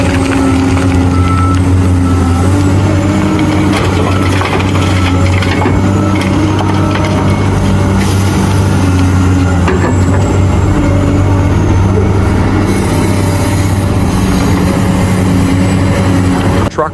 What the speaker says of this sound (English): trucks cycle in and out of the loading zone